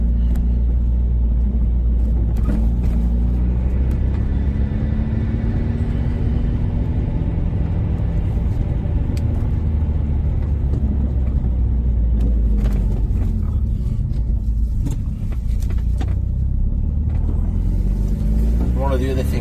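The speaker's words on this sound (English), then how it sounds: "drop link type noise, possibly excessive play in a bush." Inside a Renault Megane R26 driving over bumps, loud low road and engine rumble fills the cabin, with intermittent knocks from the front suspension standing out against it; a voice talks briefly.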